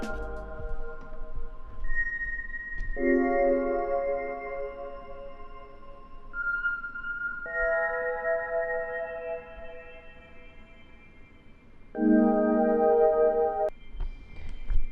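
Soft, slow electronic sleep music from a Nintendo alarm clock at bedtime, with sustained tonal chords shifting every few seconds, gentle and quiet, no voices.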